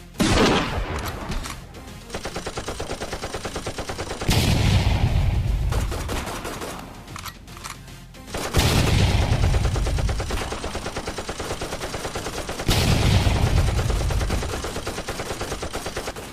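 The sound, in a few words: gunfire from the video game Free Fire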